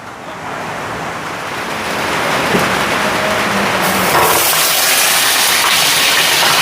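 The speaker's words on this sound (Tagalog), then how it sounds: "Ang lakas ng ulan." Heavy rain pours down in a steady, loud hiss that swells and stays dense throughout, with no voices heard.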